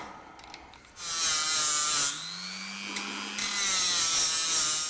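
Straight grinder with a small wheel stripping rust from the metal differential of a Jaguar S-Type, a loud high whine that spools up after a quieter start, holding steady with a brief dip in pitch partway through.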